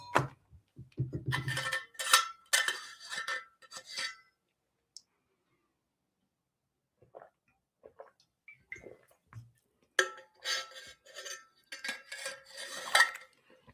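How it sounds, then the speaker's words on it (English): Hard clinks and rattles come in two bursts separated by near silence, like a water bottle knocking and jangling against something metal. "That's my obnoxiously noisy water bottle."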